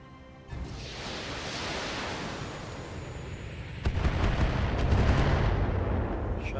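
Heavy weapons fire aimed at a Shadowhawk mech in the Battletech game, a sustained roaring barrage that swells louder partway through, dense and rumbling without pauses.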